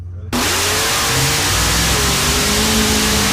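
A car engine revs hard and holds at high pitch while a tire spins, starting abruptly after a brief quiet moment, loud and close with no talk.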